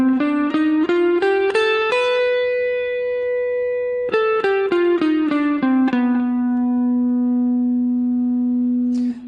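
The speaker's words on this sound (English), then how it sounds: "So I'll play 1 octave of the B altered scale, which looks and sounds like this." A guitar plays one octave of the B altered scale as clear single notes, stepping up then back down at an even pace and ending on a long sustained note, loud and alone.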